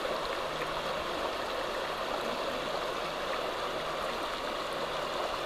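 River water flows in a continuous, broadband rush, close and steady with a gentle gurgle, and no voices or other sounds break through.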